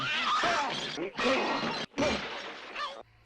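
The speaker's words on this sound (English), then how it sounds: "3 more items smashed against his head." Several items smashed against a man's head in a horror-comedy film, a series of loud shattering crashes with scattering debris, close and harsh, in bursts separated by brief gaps, mixed with other film sounds and voices.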